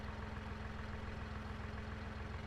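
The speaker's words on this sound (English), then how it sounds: "Start it on up. Very nice little tractor, eh?" A John Deere tractor's engine idling in a video game, a steady low mechanical drone with an even, unbroken throb, fairly quiet and without talk.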